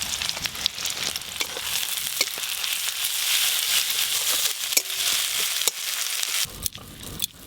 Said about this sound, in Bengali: মাছ ভাজার তেলে পেঁয়াজ কুচিগুলো দিয়ে দেবো।